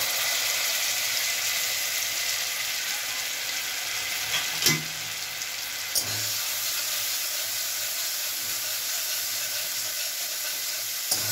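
Spice paste sizzles and fries in hot oil with already-fried garlic for a Bengali prawn and taro-leaf dish, a steady close hiss with a couple of sharp clinks from the utensil, no talking.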